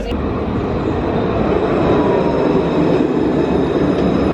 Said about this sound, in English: We took the tram followed by the bus to get to the park